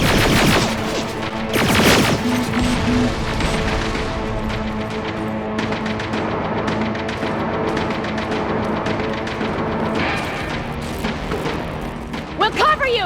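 Heavy gunfire fills a battle in the video game Terminator Resistance, with dense bursts of rapid automatic shots and booming blasts running steadily throughout, loud and close, while voices shout over the din.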